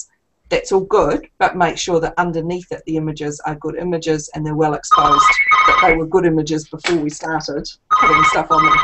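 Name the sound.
telephone ringing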